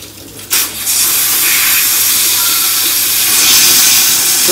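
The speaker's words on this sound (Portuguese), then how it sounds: "Ó, é perigoso a panela de pressão, mas eu jogo água aqui, ó." Water splashes over a hot pressure cooker with a loud, continuous steam hiss that jumps up suddenly after a brief quieter moment and holds steady, close to the microphone.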